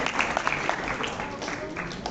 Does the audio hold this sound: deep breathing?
no